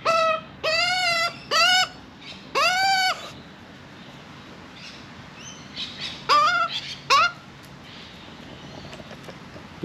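Loud, harsh bird calls from a magpie being fed close by, several rising squawky bursts in the first few seconds, then quieter chatter and another pair of calls, with no talk.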